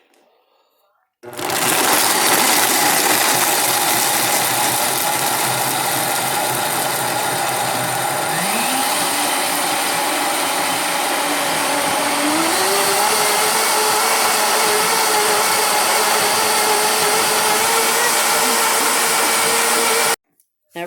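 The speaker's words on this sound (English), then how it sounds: "so I'm going to blend it again" A countertop blender runs continuously at close range, whirring loudly and steadily as it blends a drink, its pitch rising slightly partway through as the mixture loosens, with no voices over it.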